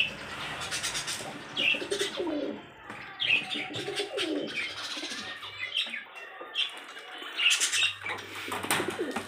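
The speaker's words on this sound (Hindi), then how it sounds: "एक पंजाबी कबूतर ये है," Punjabi breed pigeons at a pigeon shop coo and chirp in a busy cluster nearby, with wing flaps and brief squawks mixed in.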